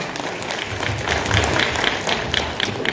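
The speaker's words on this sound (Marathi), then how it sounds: "सगळ्यात मोठ्या त्यांच्या टाळ्या" An audience fills a hall in Pune and applauds, a dense steady patter of many hands clapping, fairly loud and continuous with no talking over it.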